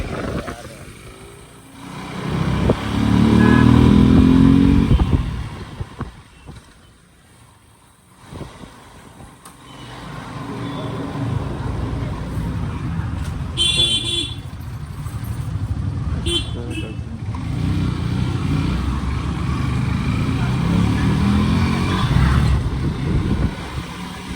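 A motorcycle engine runs steadily nearby in a market in Palpa, Nepal, rising in a loud rev early on, with occasional horn toots and passing traffic.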